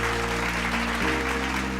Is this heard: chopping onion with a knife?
no